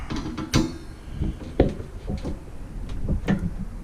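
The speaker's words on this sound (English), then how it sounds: "screwdriver, and we are going to tighten this down this time around." Screws are tightened crisscross with a screwdriver while installing storage in a 2019 Coachmen Freedom RV, giving a run of close, irregular clicks and ratcheting knocks.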